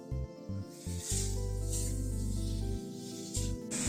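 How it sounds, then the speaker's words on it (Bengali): Ground spices and tomato paste sizzle in a pan while being sautéed for a vegetarian jackfruit curry, giving a steady hiss broken by short bursts as the mixture is stirred. "এই গুঁড়ো মশলাটাকে একসাথে টমেটো পেস্টের সাথে মিশিয়ে কষিয়ে নিচ্ছি।"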